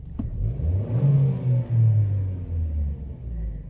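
A Chevy Cruze engine revs up under acceleration during a cam and crank relearn test, a steady low rumble climbing and holding for several seconds, close and fairly loud with no talk.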